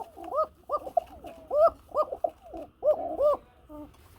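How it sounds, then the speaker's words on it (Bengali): A pair of breeding pigeons sitting on eggs coo repeatedly, a series of soft, rolling, hooting calls in close succession, near and alone without speech. "ডাক শুনছেন বন্ধুরা, প্রচুর পরিমাণে ডাকে, ডিমের কবুতর তো।"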